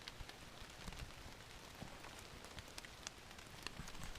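Rain falls steadily outdoors, a soft even patter with scattered sharper drops hitting nearby surfaces, fairly quiet and continuous with no voices.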